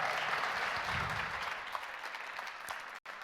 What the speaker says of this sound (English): Give them a big round of applause